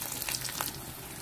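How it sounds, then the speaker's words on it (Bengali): Chopped garlic, onion and green chilli fry in soybean oil with a quiet, steady sizzle and a few brief crackles. "এগুলোকে একটু ভালো করে ভাজা করে নেব।"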